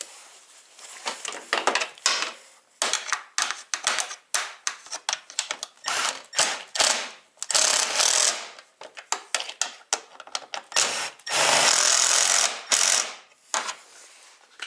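Torx screws are driven into Ski-Doo LinQ cargo base brackets, likely with a power driver, in repeated close, loud bursts of ratcheting mechanical whir separated by brief pauses, some bursts short and choppy, one long sustained run near the end.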